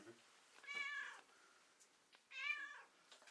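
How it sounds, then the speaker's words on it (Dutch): A cat gives two distinct meows about two seconds apart, close and moderately loud, with faint indoor background and no talking over them. "En jij bent ook de enige kat die gewoon aan het mouwen is."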